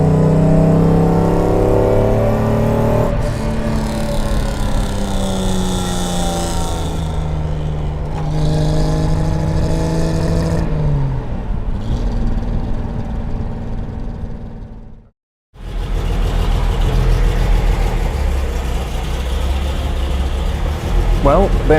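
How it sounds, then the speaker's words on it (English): Restored Mercedes-Benz 300 SL engine running and revving up through gears with rising harmonic tones, briefly cutting to near silence, then resuming a steady drone. "car's going great"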